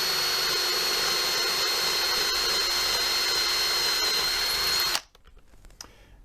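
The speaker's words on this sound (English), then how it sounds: "all I do is drill the hole there" A power drill whines at a high steady pitch for about five seconds, boring a hole into a wooden cabinet, then stops abruptly, leaving faint room noise.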